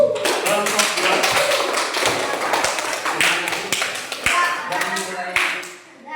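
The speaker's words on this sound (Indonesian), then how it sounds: "Berikan aplaus untuk kelompok 2." A room of people clapping for a group at a school learning station event. The crisp, fast, uneven clapping sounds close and lively and carries on for several seconds with a brief spoken phrase mixed in before it fades.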